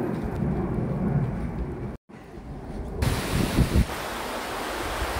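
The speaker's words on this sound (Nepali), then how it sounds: "खोला एकदमै राम्रो बगिरहेको छ, कलकलाउँदो खोला यहाँ जङ्गलको बिचमा" A stream running through jungle gives a steady broadband rush of flowing water, broken by a brief dropout partway through, then continuing with slightly stronger low churning, with no talk.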